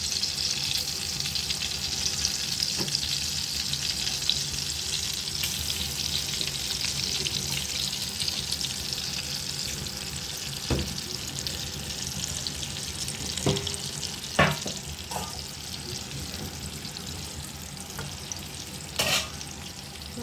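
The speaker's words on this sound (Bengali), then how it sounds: "মাছ ভাজি করব এখন। মাছ ভাজি করছি।" Fish frying in a pan on the stove, a continuous close sizzle with scattered sharp pops and crackles, no voices.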